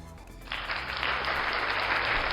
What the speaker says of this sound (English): I don't know what sound effect to use for that, so I just went with the applause.